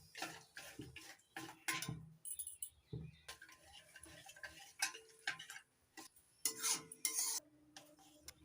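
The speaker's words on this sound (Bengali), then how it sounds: "এবার সব কিছু মিশিয়ে হালকা আঁচে পাক দিতে থাকবো" Stirring a palm-fruit and sugar mixture in a pan over low heat, with a utensil scraping and tapping in quick irregular strokes that start and stop, close and fairly clear, with no talking.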